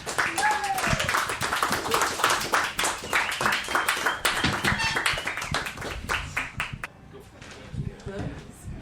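A small audience at a live show claps to welcome a guest onstage, with brisk, uneven hand claps over a murmur of voices, then thinning to a few claps and talk near the end.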